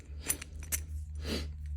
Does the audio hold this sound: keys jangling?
yes